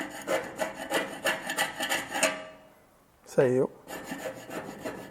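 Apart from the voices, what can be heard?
scraping painted Jeep chassis test pieces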